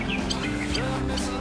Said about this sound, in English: There's a couple of birds, there's another bird, there's a duck.